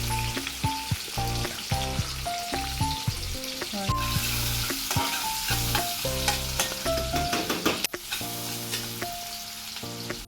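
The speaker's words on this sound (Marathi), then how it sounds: "मोहरी छान तडतडली की त्याच्यामध्ये आपल्याला कांदा टाकायचा आहे" Loud sizzling and crackling of onion frying in hot oil after mustard seeds have spluttered, with stirring noises, under a tonal melody playing alongside.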